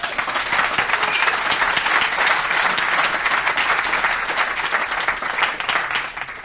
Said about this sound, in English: let them know by a round of applause.